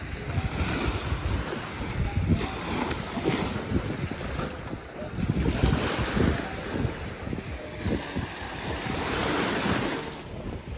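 Ocean surf at Isla Mujeres rolling in steady surges with strong wind buffeting the microphone, a continuous loud wash of water with no talking.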